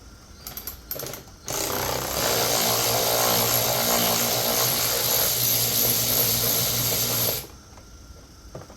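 A powered driver with a 6-inch extension spins a screw out of a 2011 Cadillac DTS front bumper, a loud, steady whirring buzz lasting about six seconds between quieter handling clicks.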